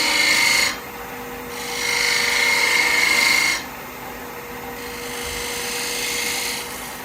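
Wood lathe turning a dovetail tenon on a black locust bowl, the cutting tool giving steady raspy scraping in long passes of several seconds, separated by brief quieter gaps where the motor hum continues alone.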